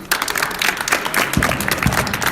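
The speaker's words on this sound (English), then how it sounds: "Clap it up." A group claps together in a brief burst of steady applause, close and fairly loud, with no voices over it.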